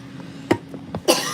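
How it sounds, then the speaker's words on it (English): A person coughs a few times in a home kitchen, short harsh bursts close to the mic, the last one loudest, with no talking. "Hang on, I coughed the wrong way."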